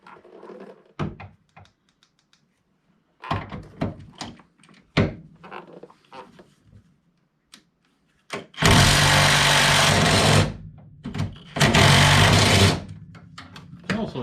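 An impact wrench working on bolts during a fuel pump replacement on a 1997 Jeep Wrangler TJ, with loud, close bursts of rapid hammering after a run of clanks, knocks and handling noises in a garage.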